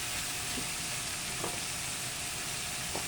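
Ampalaya (bitter gourd) frying in a pan with dried squid gives a steady, close sizzle with a few faint pops and stirring scrapes, and no voices.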